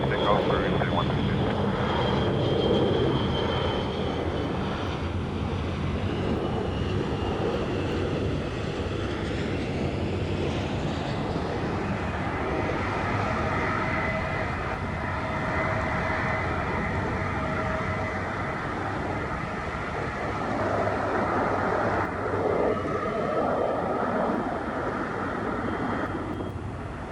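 Airliner taking off from runway 22 right at Boston Logan Airport, its broad jet roar loud and sustained, swelling and easing over nearly half a minute, with air traffic control radio talk layered over it.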